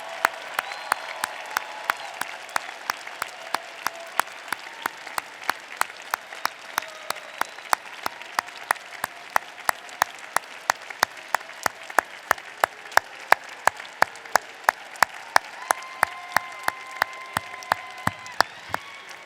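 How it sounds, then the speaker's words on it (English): Sustained applause from a large crowd at a 2025 winter university commencement ceremony, steady and dense for the whole stretch, with no talking over it. "And graduates, give them a big round of applause."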